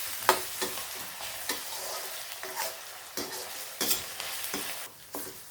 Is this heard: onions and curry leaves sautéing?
yes